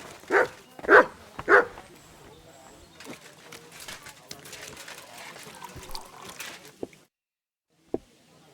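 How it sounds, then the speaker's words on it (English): A dog in a medieval village scene of the Kingdom Come Deliverance II video game gives three sharp, evenly spaced barks up close, then game voices and soft ambient rustle follow. "You silly doggy."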